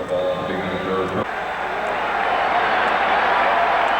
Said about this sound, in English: The crowd trying to stir the Lakers up.